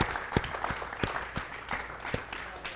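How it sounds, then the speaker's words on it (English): A crowd at a science fair trophy ceremony claps, sparse and uneven with a few sharp distinct claps standing out over a softer wash of applause, moderately quiet and fairly close. "Round of applause for science."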